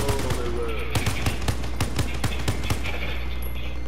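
Automatic gunfire in Call of Duty: Modern Warfare rattles in rapid bursts of sharp shots, loud and close, with players' voices mixed underneath.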